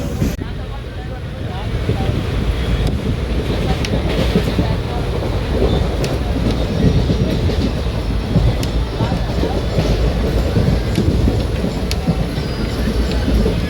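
Steady low rumble and rattle of a moving train carriage fills the whole stretch, loud and continuous, with faint clatter and occasional clicks.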